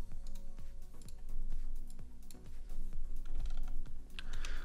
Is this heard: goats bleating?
no